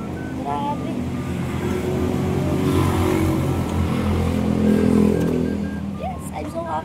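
A just-repaired motorcycle engine runs and revs up close, a rough buzzing drone that swells and falls back under a voice speaking nearby.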